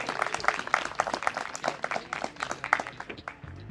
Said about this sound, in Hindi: तालियां बजा दो यार, उसी ने किया ये सब।